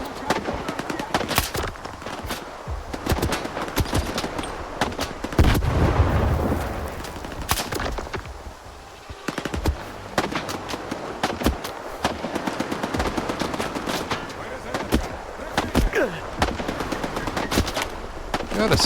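Sustained automatic gunfire in the shooter STALKER 2, loud, dense rapid bursts rattling almost without pause across the whole stretch, with brief gaps between volleys.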